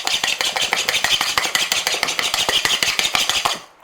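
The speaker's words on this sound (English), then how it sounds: "you just want to mix it until you can't see any more powder." Marble brownie batter mixed in a bowl, a steady run of rhythmic scraping and knocking strokes, loud and close, with no talk, stopping near the end.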